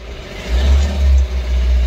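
A Mahindra Bolero BS6 pickup with a DPF soot fault starts up close by, its diesel engine settling into a loud, deep rumble that swells and dips.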